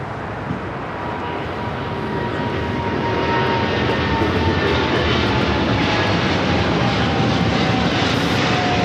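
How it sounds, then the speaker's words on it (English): China Airlines Cargo Boeing 777 freighter taking off from runway 25 left at Los Angeles airport, a loud, steady jet engine roar that swells and holds, heard from nearby. "We have the China Airlines Cargo 777 freighter on 25 left, now rolling."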